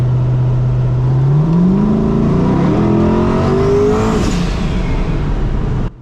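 A turbocharged LS race car on 8 psi of boost accelerates hard on a public street, its loud engine note climbing steadily through the revs before it cuts off abruptly at the end.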